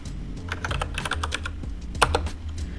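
Keys clatter on a computer keyboard in quick, close, steady typing bursts, with one slightly louder keystroke near the end.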